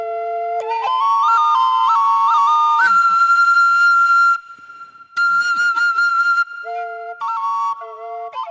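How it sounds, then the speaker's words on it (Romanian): A Romanian shepherd's flute (fluier) plays a bright, breathy melody of stepped notes, pausing briefly twice before resuming with short phrases. "Ia să vedem fluierul ăsta. Ia ascultă."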